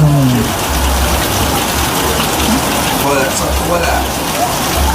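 Heavy rain pours down in a flooded area, a dense, loud, continuous wash of water hitting surfaces, with faint voices briefly audible underneath.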